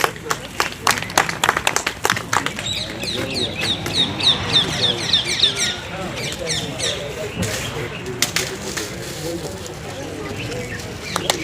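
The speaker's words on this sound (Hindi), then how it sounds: "ताली बजाकर स्वागत करें।" Audience clapping to welcome the newly sworn committee members of a wholesale and retail grocery association at an oath ceremony, a sustained burst of applause with sharp claps, background voices murmuring throughout.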